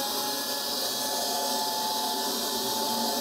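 A NaceCare 244NX compact battery floor scrubber powered up and running, giving a steady, loud, broadband whirring hum throughout with no pauses and no talk.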